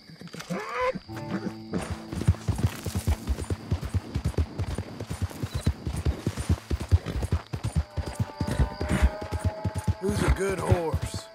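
Horse hooves clip-clop steadily in Red Dead Redemption 2, a fast even rhythm of close, punchy footfalls running through the whole stretch, with brief whinny-like sounds at the start and end.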